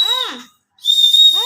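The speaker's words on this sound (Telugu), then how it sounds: "విజిల్ వేసినారు." A person whistles two loud, close, wavering tones, with a short silent gap between the bursts.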